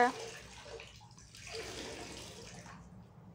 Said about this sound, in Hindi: पोछे को डुबो के और उसको अच्छे से नीचो देंगे पानी सारा निकाल देंगे